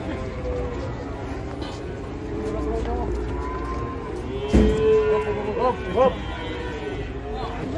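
Cattle being unloaded from a truck, some of them tumbling, give a few short moos over steady outdoor rumble and background voices.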